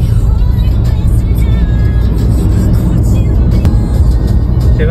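Car cruising at about 100 km/h on the Agra Lucknow Expressway, a loud steady low rumble of engine and road noise heard from inside the cabin, unbroken for the whole stretch.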